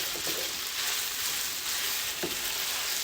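Food stir-fried in a pan while onions and peppers wait nearby, a steady close sizzle and hiss with a few soft scrapes as the contents are tossed, no voices.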